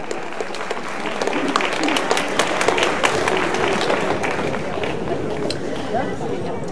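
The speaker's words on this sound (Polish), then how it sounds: "Wielkie brawa" A seniors' day crowd applauding a dancer, a thick wash of clapping with some chatter and scattered sharper claps, steady and fairly loud the whole way.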